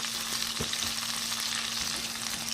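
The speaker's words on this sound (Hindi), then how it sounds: "बटर में मैं प्याज डाल रही हूँ" Onions fry in butter in a pan with a dense, steady hiss and crackle close by, broken by a few faint stirring scrapes and a constant low hum underneath.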